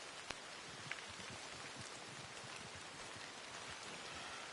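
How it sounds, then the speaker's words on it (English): Steady rain falls in the open world of Red Dead Redemption 2, a dense, even hiss of drops pattering on the ground with a couple of faint taps, continuous and enveloping with no talking. "you gotta really give them props how that rain just started"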